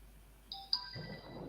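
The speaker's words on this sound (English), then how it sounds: "sorry, my phone" A mobile phone ringtone cuts in during an online Kikongo language lesson: a bright electronic tone with a sharp accent, a brief melodic phrase, then a trailing ring over rising room noise.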